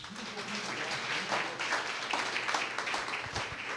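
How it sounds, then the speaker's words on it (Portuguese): Church congregation in Santo André applauds after a prayer, a moderate wash of steady clapping that fills the room, somewhat distant and without cheering. "E palmas."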